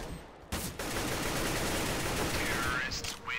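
Bursts of AK rifle fire in Counter-Strike: Global Offensive, a dense, continuous volley of loud gunshots filling the stretch after a brief pause, with a shout rising near the end.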